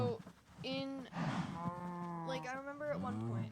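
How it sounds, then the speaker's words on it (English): Cattle in the Minecraft video game moo repeatedly, with several drawn-out, overlapping calls that are loud and close and fill the whole stretch. "I need to kill those cows."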